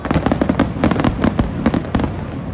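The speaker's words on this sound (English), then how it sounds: "Here we have some final fireworks from the closing on the main stage." Fireworks closing out the main stage at the Ultra Miami festival, a dense run of sharp pops and crackling bursts over a steady loud crowd-and-music roar, with no talking.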